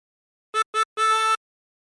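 On a tremolo harmonica, hole 12 is breathed three times: two quick, clipped notes followed by one longer held note. The reedy, wavering tone sounds close and clear against silence.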